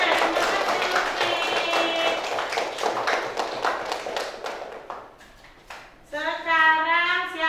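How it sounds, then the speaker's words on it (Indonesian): Schoolchildren in a classroom clapping for their classmates, a lively patter of hands mixed with children's voices and chatter, ending in a sung or chanted phrase. "Tepuk tangan buat teman-temannya."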